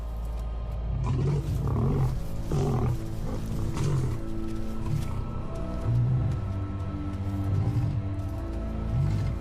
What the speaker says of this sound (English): The pride male roars his final warning.